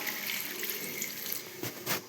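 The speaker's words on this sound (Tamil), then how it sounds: "தேவையான அளவு தண்ணி ஊற்றிக்கலாம்." Water pours into a pressure cooker in a steady stream, fairly faint and close, with a couple of brief louder gushes toward the end.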